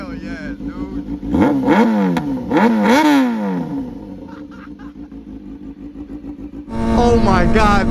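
A Kawasaki ZX6R motorcycle fitted with a straight pipe revs hard and loud up close, with sharp repeated throttle blips climbing and falling and a rough idle between bursts, while excited voices talk over it.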